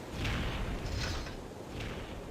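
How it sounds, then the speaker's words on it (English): Mechanical clanking and creaking from a rusty vehicle in the Bravely Second video game, a few rough metallic bursts repeating over a steady low rumble, moderately loud and without voices. "Look at that thing clanking and clunking away."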